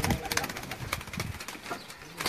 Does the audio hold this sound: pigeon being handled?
yes